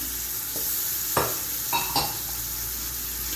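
Mutton paya masala with tomato sizzles steadily in a pressure cooker pot while a spoon stirs it, with a few distinct scraping strokes against the metal and no voices.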